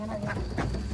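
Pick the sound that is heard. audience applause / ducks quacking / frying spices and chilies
ducks quacking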